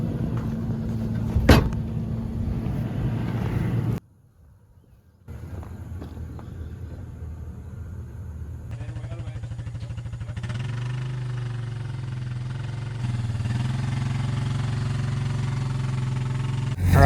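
A tractor engine idles with a steady low rumble, cutting out briefly near the start, then resuming and rising slightly louder toward the end.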